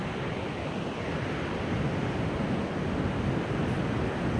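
Ocean waves breaking slowly on a coast with no houses around, a dense, steady roar of surf with a soft rushing texture, fairly distant and uninterrupted, wind noise mixed in.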